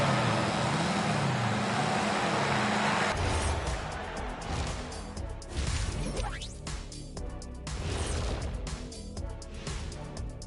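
Engines roar at an arena stunt show, a loud sustained rev gives way to rising and falling motor noise with a crashing texture, dense and unbroken throughout.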